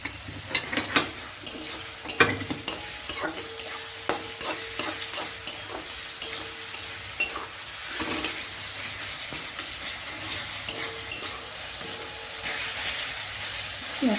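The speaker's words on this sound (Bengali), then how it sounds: "সোনালি কালার না আসে ততক্ষণ অবধি আমরা পেঁয়াজটাকে ভাজবো।" Onions with a little salt fry in a pan under a constant bright sizzle, with frequent spatula scrapes and knocks against the pan, close and fairly loud, with no voices.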